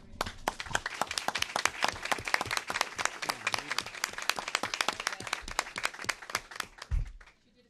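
A school committee meeting audience at North Reading Middle School applauding the narrator, with dense, sustained clapping from many hands that holds steady for about seven seconds and then stops abruptly.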